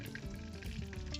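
Fish frying in oil for fish kalia crackles and sizzles faintly in a short, steady burst, heard close with no talking.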